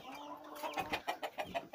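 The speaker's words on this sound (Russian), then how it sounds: "Это у нас бройлерные индюки." Broiler turkeys in a poultry house, fed only compound feed, give a run of close, repeated clucking and gobbling calls in short pulses with a steady fowl murmur behind them and no speech.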